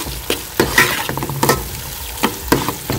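Potatoes being stirred with a spoonful of mayonnaise in a pot, giving several separate scraping, squelching strokes at an uneven rhythm, close and fairly clear with no talking.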